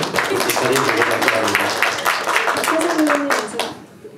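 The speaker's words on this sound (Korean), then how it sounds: "미래적인 박수를 한번 드리도록 하겠습니다" Audience applause at a film Q&A screening event, dense steady clapping throughout with some voices mixed in, fading slightly at the end.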